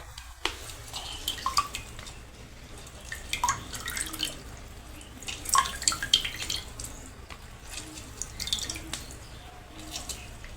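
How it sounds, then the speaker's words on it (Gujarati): Lemons being squeezed by hand into a bowl while making lemon sherbet, with scattered wet drips and soft squishing patters coming in irregular bursts, fairly close and moderately quiet, with no talk over them. "આપણે બધા જ લીંબુને આ રીતે આમાં નાખી દઈશું નીસવીને।"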